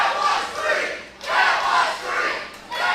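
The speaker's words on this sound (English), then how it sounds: "The crowd not happy with that count." A wrestling crowd at a ProSouth Wrestling event roars its displeasure after a near-fall count, loud swelling waves of massed shouting and jeering that rise and dip in bursts.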